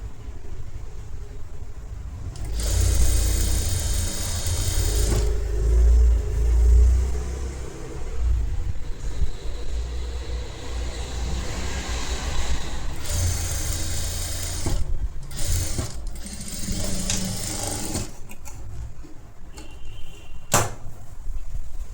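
A sewing machine stitches a half-inch seam on a designer netted blouse, running in a steady mechanical whir that surges louder in bursts, with brief pauses and stops between stitching runs.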